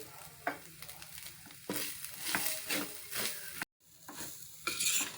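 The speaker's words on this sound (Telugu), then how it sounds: "ఇలా కలుపుతూ వేగించాలి" Grated coconut stirred and roasted in ghee in a pan, with soft sizzling and repeated scraping strokes of a spoon at an uneven rhythm, heard close up with one short break in the middle.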